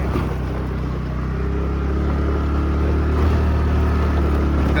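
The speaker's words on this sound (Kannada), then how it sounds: "ಗಾಡಿನೇ ಎಳೀತಾ ಇದೆ." A vehicle engine drones steadily as it pulls uphill on a rough forest road toward Ranganathaswamy Hill, a loud continuous low rumble that rises slightly in strength toward the end, with no talk.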